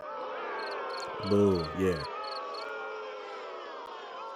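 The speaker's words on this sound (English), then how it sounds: "I like the way the boos went in with the crickets" A crickets-chirping sound effect runs throughout, a steady high insect trill, with a brief booing voice layered over it near the middle.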